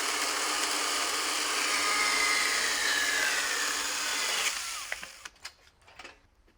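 Makita 12V and 18V cordless pruning saws cut through timber with a loud, steady buzzing whine. The cutting ends abruptly near the end, leaving a few faint knocks and clatters.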